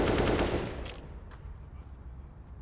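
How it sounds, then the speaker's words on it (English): Automatic weapon spraying in CS:GO during a competitive tournament match: a dense burst of rapid gunfire at the start that fades quickly, followed by a few faint, scattered shots. "smoke to cover their right side that Devo Duvek desperately sprays through"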